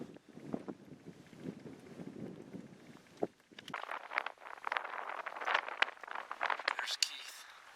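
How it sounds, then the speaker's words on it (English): Strong, cold wind blows over an open Alaskan hillside during a grizzly hunt, buffeting the microphone in loud, uneven rumbling gusts that swell and fade throughout, with a person talking underneath. "Boy, it's a blistering wind out there."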